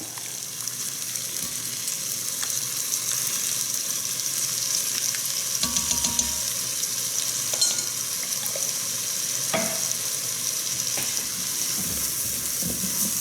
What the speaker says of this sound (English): First we need to add 3 cloves of garlic, minced